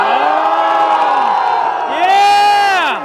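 Crowd at a Florida Man Games sumo contest cheering and whooping loudly in two rising bursts, with a brief dip between them and the second swell louder.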